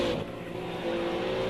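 An engine on a race car in a 45-minute endurance race eases off the throttle through the last corner, a loud sustained drone that softens briefly as the driver lifts.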